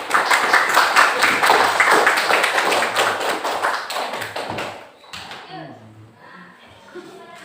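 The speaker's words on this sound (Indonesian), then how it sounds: "Tepuk tangan dulu buat kawan kita." Classroom students clap for a classmate in a loud, dense burst of rapid hand claps that continues for about five seconds, then dwindles to a few scattered claps and quiet chatter.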